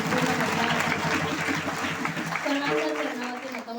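Applause from the audience at an Akhand Harinam Saptah devotional gathering in Satpur, Nashik, a dense steady clapping that runs throughout beneath a voice talking.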